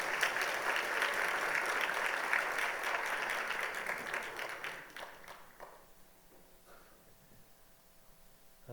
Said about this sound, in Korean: 크게 박수로 축하해 주시기 바랍니다.